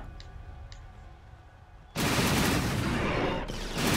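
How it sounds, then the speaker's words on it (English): Automatic turret in the shooter game Resistance firing a sustained burst of bolts, loud and dense, starting abruptly after a quiet stretch, briefly dipping, then continuing hard. "This creates an auto turret as the clip fires its bolts at nearby targets."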